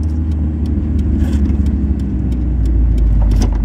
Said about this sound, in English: Now when you rev match properly, the engine's not going to lurch forward and it's not going to have excessive braking.